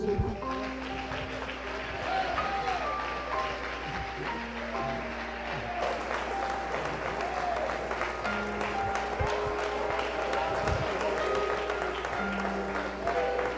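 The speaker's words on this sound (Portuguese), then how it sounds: "Pode aplaudir Jesus." A large church congregation applauds steadily throughout a service, with a voice and some background music faintly under the clapping.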